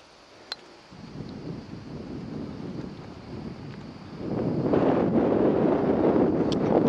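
Steady wind buffets the microphone on a golf course, a low broadband rumble that grows noticeably stronger and louder in the second half, with no voices.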